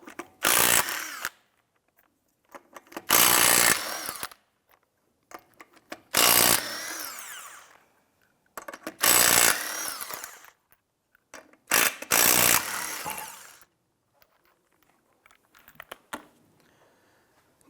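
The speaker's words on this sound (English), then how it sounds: "Using your 19mm socket, loosen and remove the 5 lug nuts." An impact gun with a 19mm socket spins off the five lug nuts on a 2005-2007 Ford 500, five loud separate rattling bursts of about a second each, separated by quiet gaps.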